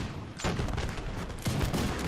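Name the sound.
artillery firing in the video game Napoleon: Total War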